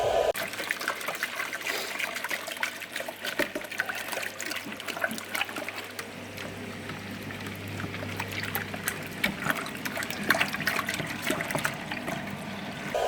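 A BMW E31 headlight is rinsed under running water in a kitchen sink, a steady close trickle and splash that runs throughout without speech.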